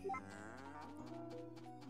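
A marble cow in the farming game Story of Seasons: A Wonderful Life gives a single drawn-out moo that slides downward in pitch, clear and close over a quiet game backdrop.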